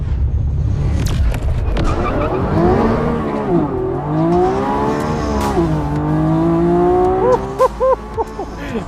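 Lamborghini Revuelto V12 plug-in hybrid roars through a burnout on the Vallelunga circuit, the engine loud and close, rising and falling through the revs with tire squeal, then crackling upshifts near the end.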